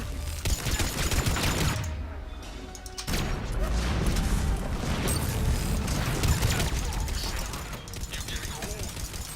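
Gunfire and crashing explosions fill a combat scene in the video game Mass Effect, with dense bursts of shots and impacts while voices talk over the fighting.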